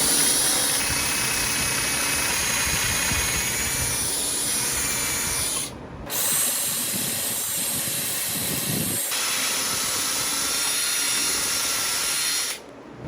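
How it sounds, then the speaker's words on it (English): A power drill bores pocket holes through a Massca twin pocket hole jig into wood, a steady high-pitched whine with gritty cutting noise in three bursts separated by brief stops. "the drill bit's going to go in like this, and it's going to create the pocket holes that I need"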